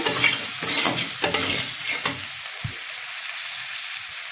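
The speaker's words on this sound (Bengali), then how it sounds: "হলুদ লবণ এবার সুন্দর করে ভেজে নিতে হবে" Tengra fish fries with turmeric and salt in a pan. A busy sizzle comes through with several scraping stirs, then it drops to a quieter, fainter crackle near the end. The frying is close-up and there is no talk.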